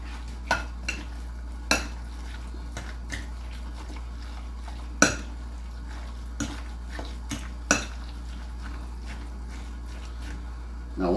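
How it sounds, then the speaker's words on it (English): A spoon scrapes and knocks against a bowl while Louisiana seafood cake mixture is stirred, giving sporadic sharp clinks over a low steady hum, with no talking. "Completely mix everything together."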